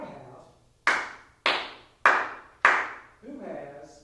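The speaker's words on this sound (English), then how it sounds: "I'm going to say a rhythm and clap it." Four sharp, evenly spaced hand claps ring out crisply in a room, each with a brief decaying tail, preceded by someone speaking and followed by more of his voice.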